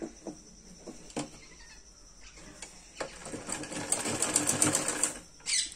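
Sewing machine stitching salwar fabric in short bursts, a few brief whirring runs and clicks early, then a longer, louder continuous stitching run near the end.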